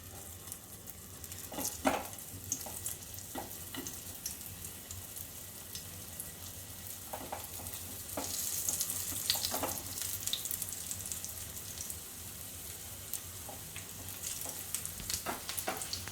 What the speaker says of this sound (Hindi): मैं टिक्कीज को, बनाना टिक्की को शैलो फ्राई कर रही हूँ।